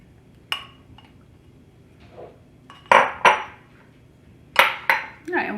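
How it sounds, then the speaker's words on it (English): Ingredients for a keto cheesecake-bar crust being mixed with melted butter in a bowl, heard as a few sharp clinks and scrapes of a utensil against the bowl, spaced irregularly, close and fairly loud. "we'll mix this together till we get a good crust"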